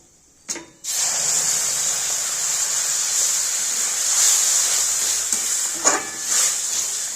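Milk poured onto hot roasted semolina for sooji laddu bursts into a loud, steady hiss and sizzle that holds for several seconds, with a couple of brief louder flares near the end.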